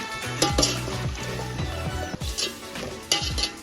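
Potatoes and vegetables for veg pulao are stirred and fried in a pan, with a soft sizzle under repeated scraping and clinks of a spoon against the metal, close and fairly loud.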